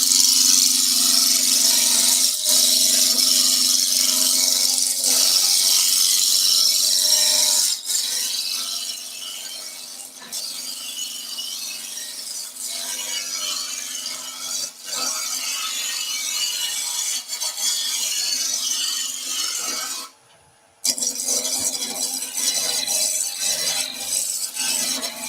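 Spindle roughing gouge cutting a cabriole leg on a wood lathe, a continuous hissing, scraping shave of wood over a steady motor hum, loud and close, with a brief pause near the end.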